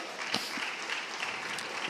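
A church congregation applauds in a steady wash of clapping that holds throughout, moderately loud with no clear voices on top.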